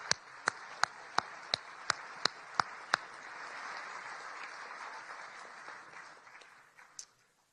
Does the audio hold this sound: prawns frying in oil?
no